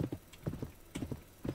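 Horse hooves clip-clopping in a video game, quick rhythmic clusters of hoof beats at a trot, fairly close and moderately loud, with no talking.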